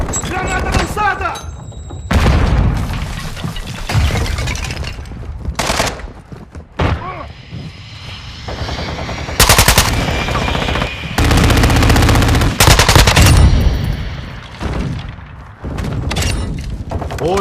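Modern Warfare 2 multiplayer match on the La Casa map, loud automatic gunfire bursts and explosive booms from a thrown grenade, dense and continuous, with in-game voice callouts in Portuguese mixed in.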